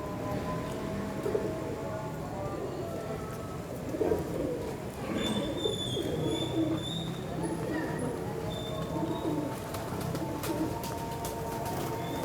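A pigeon of the one-feather short-tail breed coos in soft repeated calls, close and low, over a dozen seconds. Other birds chirp faintly, and there are light rustles in the background.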